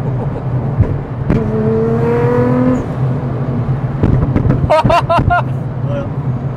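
An 800 hp Nissan GT-R engine turns over with light throttle, a rumbling idle rising into a brief tonal rev, then a few sharp pops and bursts near the end, with people talking over it.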